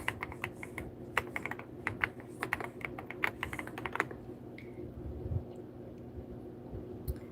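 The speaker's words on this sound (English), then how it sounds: "I am typing names live." Rapid, uneven clicking of keys on a computer keyboard during a live stream, typed in quick bursts for about four seconds, then slowing to a few scattered taps over a steady low background hum.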